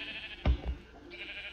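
A sheep bleats twice in a video game, two short close calls in quick succession over a faint steady ambient hum.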